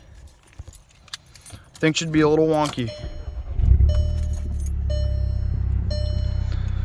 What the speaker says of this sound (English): Now, when you go to start your car,